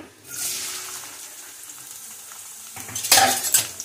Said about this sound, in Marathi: तेल गरम झालंय, आधी कांदा भाजून घेते